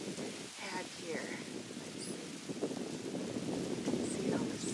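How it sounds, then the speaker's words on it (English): Tiny hail pellets fall outdoors onto steps on a mild day, making a steady, dense patter like light rain that grows slightly louder toward the end, with a soft wind rumble underneath. "And so we have hail."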